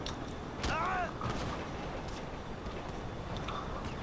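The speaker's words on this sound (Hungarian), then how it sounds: "De mik ezek a lövöldözések?" Distant gunfire in the GTA 5 video game thuds out in a few scattered, muffled shots over a steady rumbling background.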